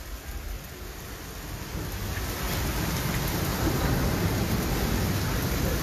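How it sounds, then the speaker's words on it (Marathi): Heavy rain falling hard at Legoland Dubai, a continuous dense roar of drops that grows slightly louder after the first couple of seconds and stays steady, with no voices. "पाऊस जोरात पडत आहे त्यामुळे लेगलँड दुबईचं बंद आहे"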